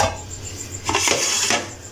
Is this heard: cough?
no